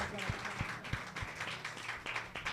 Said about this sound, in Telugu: ఆమేనని చప్పట్లు కొడదాం, గట్టిగా కొట్టాలి.